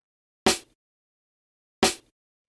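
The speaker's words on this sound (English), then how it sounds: "kind of just like a nice, punchy, sort of like vinyl snare" Two punchy vinyl-style snare drum hits from a sample, widely spaced, each a sharp crisp crack with a short tail, loud and isolated against silence.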